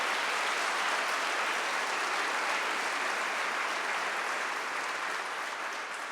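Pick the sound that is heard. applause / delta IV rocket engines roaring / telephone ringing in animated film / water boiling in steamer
applause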